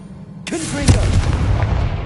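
A Confringo fire spell blasts in the Hogwarts Legacy video game, a sudden loud burst that rolls into a long, roaring rumble, with a brief shouted voice riding over it.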